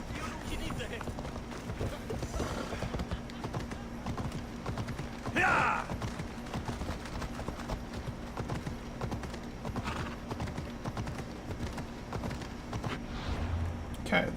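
Horse hooves in Assassin's Creed Odyssey, a rapid rhythmic clip-clop of a galloping mount running steadily throughout, with a brief snort or whinny midway and someone talking over the game sounds.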